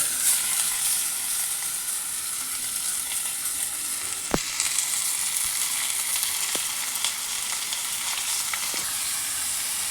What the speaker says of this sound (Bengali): একটু মাংসটাকেও ভাজা ভাজা করে নিচ্ছি।